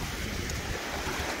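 Sea waves wash onto the beach at Warnemünde, Rostock, a steady broadband roar of surf, loud and continuous with some wind noise and no talk.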